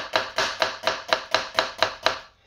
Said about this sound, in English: you want to chop all the way down there